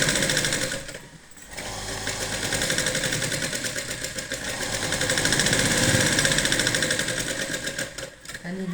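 A sewing machine stitches blouse fabric for an unlined katori blouse, its steady close mechanical whir running almost continuously, with a brief pause near the start.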